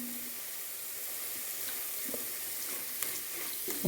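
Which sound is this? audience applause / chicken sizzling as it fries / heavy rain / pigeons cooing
chicken sizzling as it fries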